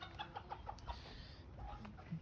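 Ispenç rooster and hens cluck in a farmyard, a string of short, soft clucks over a steady outdoor background hum, fairly distant and quiet.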